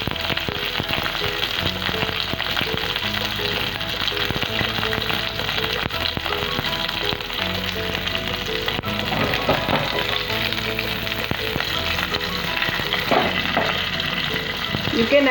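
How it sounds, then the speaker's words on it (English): Curry leaves and mustard seeds crackle and sizzle in a little hot oil, a loud, dense, steady frying hiss with constant popping, close by throughout and with no talking. "Take little oil, add some curry patta and half a teaspoon of rai to it,"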